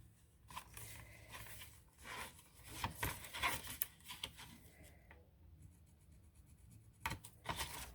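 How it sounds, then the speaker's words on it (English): Pencil or marker scratching on craft material to mark a cutting line for a distress ink and dobber holder, short quiet rubbing strokes in scattered bursts. "I'm just going to mark where I'm going to cut it down."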